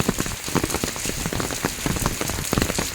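Steady rain falls on a surface during a sunshower at a construction site, a dense patter of close drops hissing continuously with scattered louder taps throughout, and no voices.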